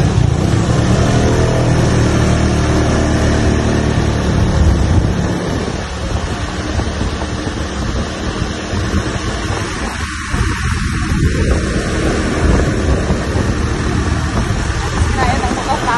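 A Honda Sonic motorcycle rides along a road, its engine and wind noise loud and continuous up close, easing slightly toward the end.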